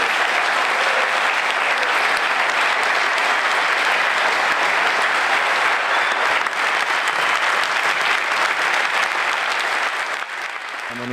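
An audience applauds after a speech at a political gathering: dense, sustained clapping from a large crowd fills the space at a steady loud level, easing off slightly at the very end.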